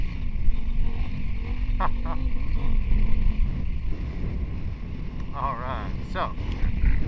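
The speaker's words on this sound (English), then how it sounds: "I'm riding a KTM 890R Adventure Rally." Riding a KTM 890R Adventure Rally motorcycle on the street, its steady engine drone continuous under heavy wind buffeting, with a person talking over it throughout.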